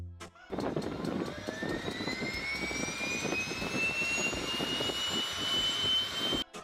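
Piper Meridian single-engine six-seat turboprop airplane with a 500 shaft horsepower engine, giving a loud, steady turbine whine with a rising high-pitched tone over a rumbling roar, continuous and close throughout.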